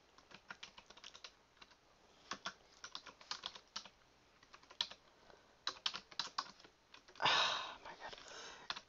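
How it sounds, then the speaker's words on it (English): Typing on a computer keyboard, with bursts of quick close key clicks, pauses between runs, and a louder rustling or breathy noise near the end. "I'm typing in the dock and I'm not really paying attention."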